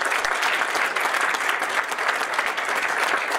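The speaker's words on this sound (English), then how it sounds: "Please give a round of applause for all of our sponsors." Audience at a TEDx event in a public library applauds its sponsors, a dense, even burst of clapping from a crowd that holds steady and close throughout, with no talk over it.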